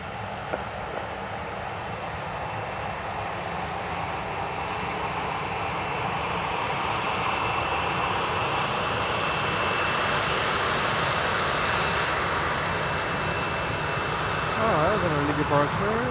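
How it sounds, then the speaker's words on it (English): An airliner departing runway 20 for Kelowna roars steadily throughout, a broad sustained engine rumble that swells slightly as the takeoff run builds, with no voices heard. "525 departing runway 20"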